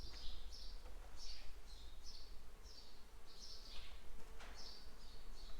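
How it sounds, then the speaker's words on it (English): Bees buzzing around a nest in a farm air seeder, heard as a faint, steady outdoor hum, with repeated high chirping calls over low rumbling noise. "we've got some bees that are trying to take up residence in our air seeder"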